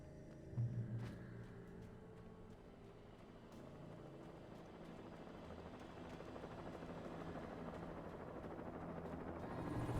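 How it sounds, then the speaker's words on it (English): A helicopter circles in the Alan Wake video game, a low steady rotor rumble that slowly builds, fairly faint and heard alone. "Helicopter, even."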